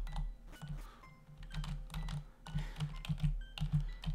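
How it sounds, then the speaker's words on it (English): Computer keyboard keys clacking in quick, uneven bursts of close typing, steady and fairly quiet, with no voices. "Also, my keyboard makes a little noise."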